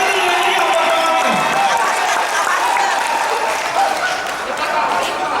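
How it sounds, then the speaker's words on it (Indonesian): A crowd applauds and cheers at the closing ceremony of a national coordination meeting: sustained loud clapping with scattered shouts, fairly close, easing slightly toward the end. "Oke, tepuk tangan dulu yang dia buat Pak Wakil."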